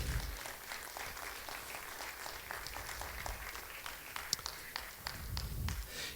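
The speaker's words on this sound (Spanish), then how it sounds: "dale una ofrenda de palmas a nuestro Dios" A church congregation claps in praise to God, a continuous moderate wash of many hands with a faint voice underneath and low rumbling at the start and end.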